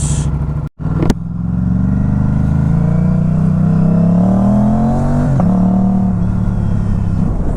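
A warm TVS Apache RS 457 motorcycle engine while riding, a steady close exhaust drone whose pitch climbs smoothly under throttle, dips briefly at a gear change and carries on, loud and continuous with no talk.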